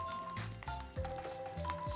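Oil sizzles and crackles steadily in a hot pan as patola is sautéed alongside roasted pork belly, a close, continuous frying hiss broken by soft stirring clatter.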